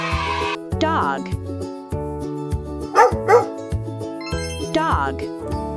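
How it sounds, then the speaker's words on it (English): A dog barks a few times in short, sharp bursts over a bouncy children's music track, with several spaced yelps standing out clearly above the tune. "Dog."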